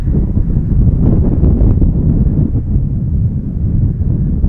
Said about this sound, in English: Oh, it's just so windy.